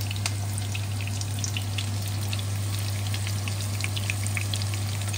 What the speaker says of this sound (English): Well, they are sizzling.